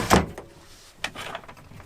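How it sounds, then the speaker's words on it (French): A storage drawer in a camper van sliding open, with a quick rolling slide and soft clunks at the start and end, close and brief. "Toujours en rangement, donc on a ce tiroir qui est ici."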